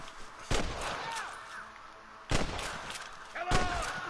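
Gunshots in Red Dead Redemption, three sharp loud reports spaced a second or two apart, each ringing out briefly over a faint background of game ambience and chirpy effects.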